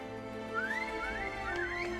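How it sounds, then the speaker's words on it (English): A melodic whistle in a video game rises and falls in a few short phrases over a steady low hum, moderately loud and fairly close, calling a horse. "Igor whistles. The tall red horse tosses his mane and comes to him."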